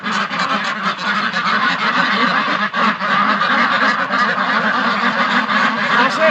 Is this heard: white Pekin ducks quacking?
yes